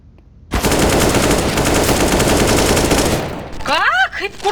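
A Negev machine gun in the CS:GO video game fires one long, loud, sustained burst of rapid shots lasting nearly three seconds, then stops as a voice begins speaking.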